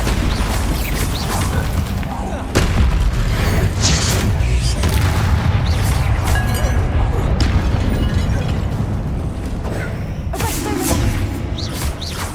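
Bombarda spell explosions in the Hogwarts Legacy video game, dense booming blasts and crashes layered over busy game action, loud and continuous, with a voice casting spells amid the noise.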